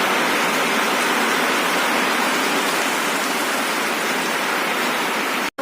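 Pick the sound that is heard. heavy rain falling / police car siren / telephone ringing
heavy rain falling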